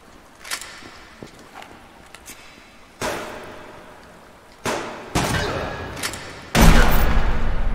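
Heavy blasts from a double-barreled shotgun in the video game Subsistence, three or four loud booming shots spaced a second or two apart, each ringing out with a decaying tail, preceded by faint clicks and thuds.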